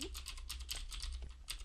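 Rapid, continuous clicking of keys on a computer keyboard, close and moderately loud, with an even typing rhythm and a brief pause near the end.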